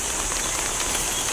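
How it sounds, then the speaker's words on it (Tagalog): Steady rain falls outdoors near a guppy breeding tank setup, a dense, even hiss of drops spread evenly throughout with no voices. "lupaya ko kasi medyo maulan ngayon"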